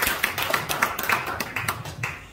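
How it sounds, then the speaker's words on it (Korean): Scattered clapping from a church audience welcoming a speaker, a modest group producing irregular, fairly close claps that thin out toward the end, with no talking over it. "다시 한번 우리 큰 박수로 환영해 주시기 바랍니다"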